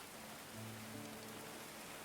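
Steady rain falling in the medieval colony-building game Going Medieval, a soft even hiss with no distinct drops, faint and continuous throughout, with a low humming tone underneath partway through.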